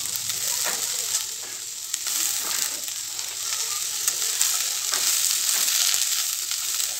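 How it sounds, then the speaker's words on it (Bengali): Yardlong beans frying in a pan while being stirred, a loud, continuous hiss of hot oil with soft spatula scrapes scattered through it, no voices. "সেই বরবটিগুলো এর মধ্যে দিয়ে দেবো। বেশ সুন্দর করে নাড়াবো।"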